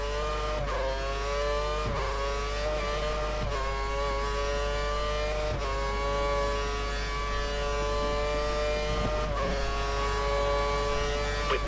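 In the F1 2013 video game, a Formula 1 car pulls out of the pits and its high-pitched engine whine holds steady and loud. Brief dips in pitch mark gear shifts, and a constant low hum sits underneath.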